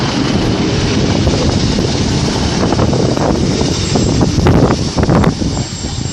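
A Class 156 diesel train at Liverpool South Parkway station gives a continuous loud rumble and rattle, with wind noise on the microphone. No voices are heard.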